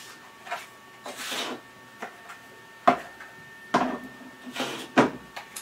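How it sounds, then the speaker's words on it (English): A 3D printer works on the vertical stabilizer of a swept-forward FPV wing, making quiet scraping rasps and light taps in uneven bursts against a faint steady motor whine, close by. "So I'm currently now printing the vertical stabilizer."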